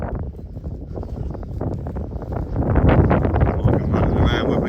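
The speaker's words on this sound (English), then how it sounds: "Sorry for the wind again. This is the Fens," Strong wind buffets the microphone out in the Fens on a farm, a continuous rough roar that swells louder toward the end.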